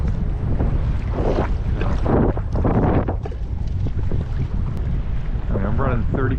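Strong wind roars over a small fishing boat on rough water, heading into the wind, a loud continuous buffeting rush with splashing surges close to the microphone.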